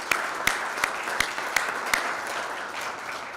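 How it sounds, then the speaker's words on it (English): Audience at an outdoor economics press conference applauds the AV crew, a steady wash of clapping punctuated by a few sharp, evenly spaced louder claps near the front that fade out partway through. "Give Russ and Mac a round of applause."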